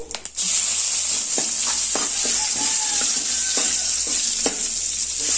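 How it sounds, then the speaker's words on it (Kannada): Curry leaves sizzle and crackle in hot tempering oil with mustard seeds and dry red chillies, a steady close frying hiss broken by sharp pops, with no talking. "ಹಂಗೆಯ ಒಗ್ಗರಣೆ ಸೊಪ್ಪು,"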